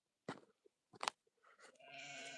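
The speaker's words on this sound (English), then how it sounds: "I gotta get the bloody goats in." Goats on a farm bleat close by in a few short, sharp calls separated by pauses, then one longer, wavering bleat, with no talk over them.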